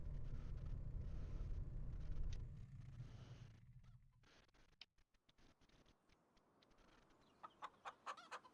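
Chickens clucking in a video game: a run of short, rhythmic clucks near the end follows a stretch of loud low rumbling and scattered clicks.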